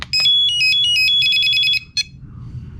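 Sky Viper Fury stunt drone powering on with a rapid series of loud electronic beeps and trills lasting over a second and a half, then one short beep after a pause.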